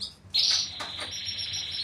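Canaries kept for breeding give a bright, high chirp that rises suddenly and then trails into a sustained trilling song, close and clear with no talking.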